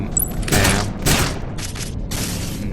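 A series of booming blasts and bursts of rapid fire ring out in quick succession in the video game Into Mirror, loud and close, with no talking.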